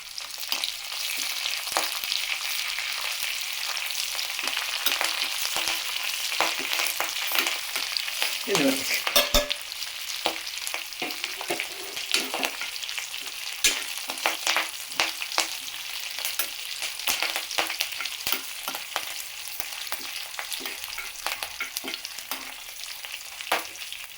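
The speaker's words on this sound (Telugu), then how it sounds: "బాగా దూరగా వేగాలి. ఇప్పుడు సువాసన వస్తుంది బాగా." Curry leaves, mustard seeds and cumin fry in hot oil for Andhra-style curry, giving a continuous loud crackling sizzle with dense popping and spattering throughout, with a brief stir partway through.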